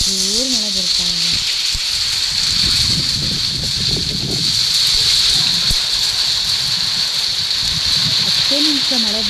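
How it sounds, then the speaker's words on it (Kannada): Heavy rain pours outside in a steady, dense hiss and wash that lasts throughout, with a person talking over it at the start and end. "ಮಳೆ ಬರ್ತಾ ಇದೆ."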